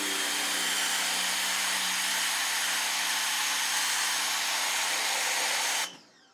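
A Westinghouse pressure washer sprays through its yellow nozzle, giving a steady, loud hissing drone that cuts off abruptly near the end.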